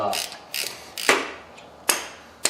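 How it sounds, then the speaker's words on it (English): A ratcheting socket wrench on a 1/4-inch drive with an adapter turns 9mm-head bolts into a brake rotor hat on a Lexus/Toyota, a series of close, crisp clicking bursts with short pauses between them. "we will turn these in and see if we can pop this rotor free"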